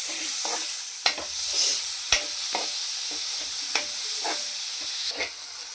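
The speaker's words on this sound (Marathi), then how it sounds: "व्यवस्थित हलवून घ्यायचं, जेणेकरून आपली ही ग्रेव्ही मस्त अशी होईल" Prawn masala gravy gets stirred in a pan over a soft frying sizzle, with sharp spoon scrapes and knocks against the pan at irregular intervals, close and fairly quiet.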